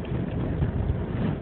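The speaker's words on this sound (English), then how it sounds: "It's a windy day." Wind buffets the microphone of someone cycling through Copenhagen on a windy day, producing a steady, close, muffled low roar that lasts the whole moment with no voices.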